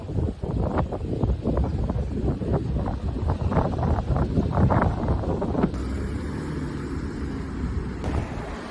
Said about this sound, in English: It's so windy, but it's kind of warm out, so the wind feels really nice.